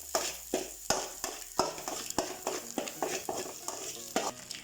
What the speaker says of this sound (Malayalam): ജിഞ്ചർ ആൻഡ് ഗാർലിക് പേസ്റ്റ് ഇടുമ്പോൾ നന്നായിട്ട് സ്മെല്ല് വരും.